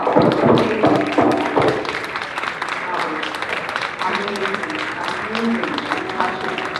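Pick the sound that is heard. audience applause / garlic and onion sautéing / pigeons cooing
audience applause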